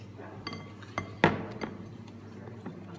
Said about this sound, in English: now you can use a spatula to cream it